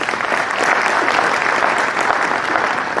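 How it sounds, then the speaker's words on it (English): A crowd at a state investment and economic forum gives a speaker a full round of applause, dense, even and sustained throughout, with no speech over it. "Let's have a round of applause for him."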